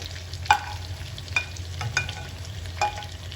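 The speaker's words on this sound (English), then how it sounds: "Stir and let it cook." Onions, tomatoes and mixed vegetables sizzle gently in a pan for sweet and sour fish, with a low steady hiss and several distinct scrapes of a utensil being stirred through them.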